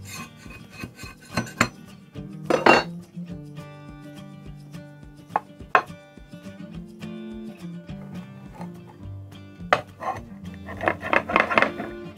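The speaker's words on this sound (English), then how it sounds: "I'm going to go ahead and put them out on a plate" Stove-top Dutch oven biscuits being moved out onto a plate, with irregular scraping, knocking and clattering of utensils and cookware, some sharp and loud, spread across the whole stretch.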